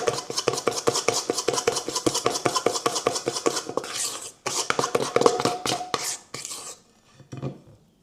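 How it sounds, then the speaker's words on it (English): Lemon drizzle cupcake batter being mixed by hand in a bowl, a fast steady run of close scraping and tapping strokes that pauses briefly and then resumes more sparsely near the end. "I'm giving this another bit of a mix."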